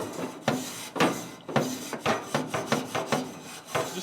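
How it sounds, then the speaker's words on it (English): Grill brush scraping debris off the grate of a Ninja FlexFlame grill: about eight rough, rasping strokes in a steady back-and-forth rhythm, close and distinct, with no talk. "by scraping inside the grill here, all those bits are going down"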